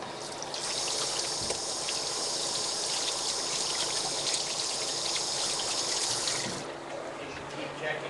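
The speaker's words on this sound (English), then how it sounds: "Let me just rinse my hands off here." Hands being rinsed under a running tap during a cooking segment: a steady, close rush of water that flows for about six seconds, then cuts off and leaves a quieter room tone.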